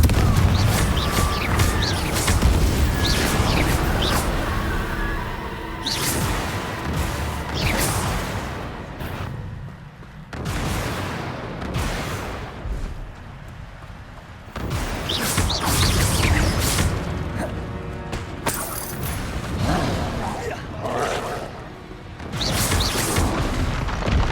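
Confringo spell blasts in Hogwarts Legacy go off again and again, loud booming bursts with whooshing swells and crashes over nearly half a minute of dense combat noise.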